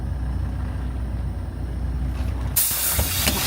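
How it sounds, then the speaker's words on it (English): A truck's air brakes are set with a sudden loud hiss that cuts in near the end, breaking a steady low engine rumble at a weighbridge. "Put the brakes on before we get out"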